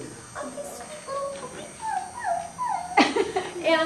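A voice imitating a sweet little puppy, giving several short high whimpering whines and yips in a row at close range, with a brief louder burst near the end.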